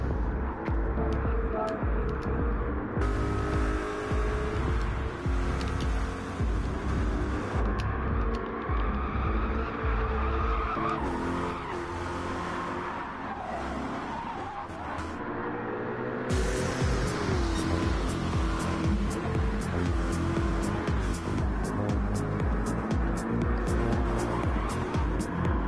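Race cars lapping Willow Springs' Big Willow circuit in the NASCAR GT video game, with a steady loud engine drone, tire noise and shifting pitch throughout, the sound dipping briefly midway before surging back strong.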